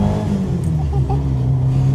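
A 1968 Honda S800 engine revving as it accelerates, a close, loud, buzzy note rising steadily in pitch over the whole stretch, with road noise underneath.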